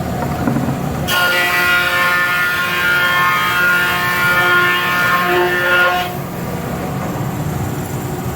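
A thickness planer feeds wooden boards back through for a footstool project, running as one loud, steady whine with a buzzing, harmonic-rich cutting tone for about five seconds between quieter idling machine rumble.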